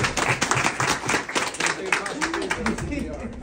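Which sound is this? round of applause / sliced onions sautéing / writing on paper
round of applause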